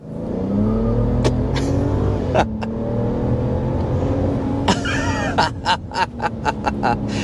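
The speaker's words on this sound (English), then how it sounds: "You hear the tire squeal?" A 2025 RAM 1500 Tungsten or 2024 Ford F-150 Platinum Plus pickup engine revs and accelerates loudly and continuously, with a high-pitched tire squeal cutting in repeatedly toward the end.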